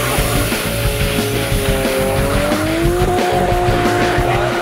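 A stunt car spins through 180-degree turns, its tires letting out a loud, sustained squeal that rises in pitch over a rough, rumbling engine, close and continuous.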